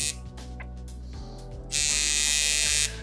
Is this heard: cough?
no